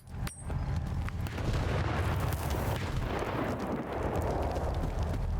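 Grenade blast in the shooter game Stalker 2, a sudden boom followed by a long, heavy rumbling roar that stays loud and dense for several seconds.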